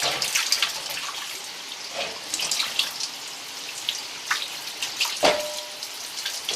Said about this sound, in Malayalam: നല്ല സുന്ദരനായ ഇറച്ചി കഷ്ണങ്ങൾ ഒന്നുകൂടെ കഴുകുന്നു.